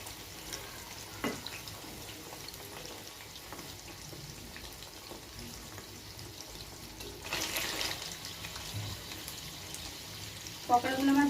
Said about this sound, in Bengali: যতক্ষণ না সেদ্ধ হয় ভাজা হয় ততক্ষণ আমি এইভাবে ভেজে নেব।